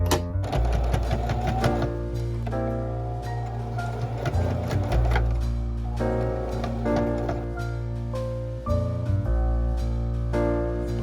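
A sewing machine stitches pillowcase fabric pieces together for a tote bag, running in steady bursts with brief pauses, close and fairly loud against a background of music.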